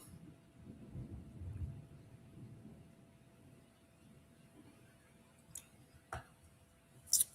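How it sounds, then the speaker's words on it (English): A low, rumbling roll of distant thunder swells in the first seconds and fades into quiet ambience, followed by a few brief sharper knocks. "Did you guys hear that thunder?"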